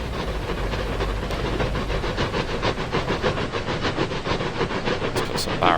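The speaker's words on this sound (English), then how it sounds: "Oh, hello, I hear a train." A train in the Transport Fever 2 railway simulation game rolls past with a dense, rhythmic clickety-clack of wheels over rail joints and a hissing rush. It stays loud and close with no talk over it.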